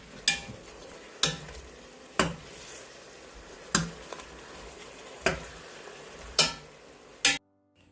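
Oxtail pieces sear in a hot pot with a steady low sizzle, interrupted by about seven sharp clacks of a mixing tool against the pot at regular intervals, and no talking.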